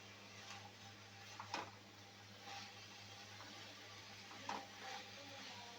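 Cabbage with a rohu fish head sautés in a pan with a low, steady sizzle, while a few distinct clinks and scrapes of stirring break through at intervals; no one speaks.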